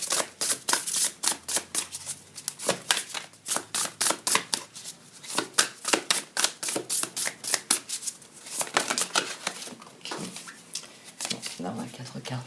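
Tarot cards being shuffled by hand in rapid, rhythmic riffles and cuts, close and crisp, with a few cards slipping loose and falling.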